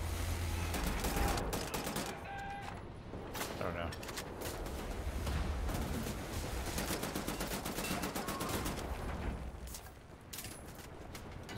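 Rapid automatic gunfire and shots crackle through a Wolfenstein The New Order firefight, near and loud, in sustained bursts with brief gaps and a voice speaking at moments.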